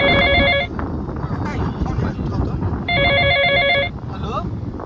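A telephone rings after a call is placed, a repeating electronic ring tone in two loud bursts separated by a pause, with background noise and a faint beep between.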